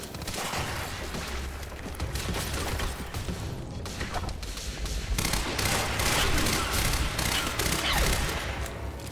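Sustained assault rifle fire and other gunfire in the shooter game Quantum Break, a dense rattling barrage with booms and clatter, loud and continuous throughout.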